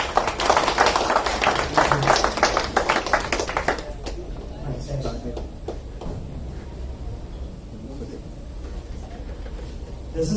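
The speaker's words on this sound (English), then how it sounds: "Please clap" An audience applauds in a crowded hall at a presentation session, a dense burst of clapping for about four seconds that then thins into scattered claps and room murmur.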